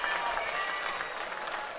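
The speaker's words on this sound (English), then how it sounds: "both the front rowers coming off for Coastal, getting a round of applause by the faithful in front of us" Round of applause from a rugby crowd in the stands at a club final as two Coastal front rowers are substituted, a steady wash of clapping and crowd noise throughout with no clear pauses.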